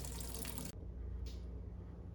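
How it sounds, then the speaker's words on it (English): Water running from an open single-handle faucet under repair: a steady broadband gush that cuts off abruptly partway through, leaving a quiet low hum with a brief faint splash afterward. "leave it open until no more water runs out of the faucet"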